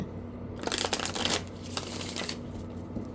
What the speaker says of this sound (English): that I'm shuffling all of the cards.